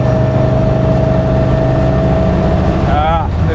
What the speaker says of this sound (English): The Supercharger sounds.